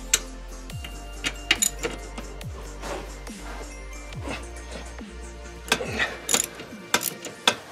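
Ratchet undoing nuts on an Audi 2.7 Bi-Turbo pedal assembly, close rapid clicking in repeated bursts with a few sharper metallic knocks near the end, no talk.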